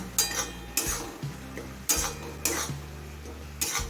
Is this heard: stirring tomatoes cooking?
yes